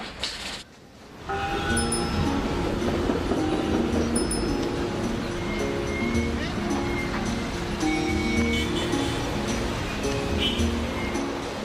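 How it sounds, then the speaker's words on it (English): A slow train rolls toward Wuchao County, China, some 300 miles south of Beijing, with a steady loud rumble and rattle of the carriages that continues after a short quiet start, and faint voices are heard in the background. "Why a slow train to Wuchao?"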